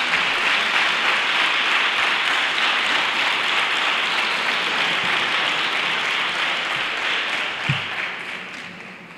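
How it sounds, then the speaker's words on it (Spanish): Loud, sustained applause from an audience at a Three Kings coronation ceremony, a dense wash of clapping lasting several seconds before it starts to thin out near the end. "Un fuerte aplauso."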